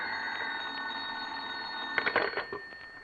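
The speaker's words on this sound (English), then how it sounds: "He was reading the morning paper at home when the phone rang." An old-fashioned telephone bell rings in an old time radio mystery drama, a quiet steady trill that ends in a short burst of clattering handset noise.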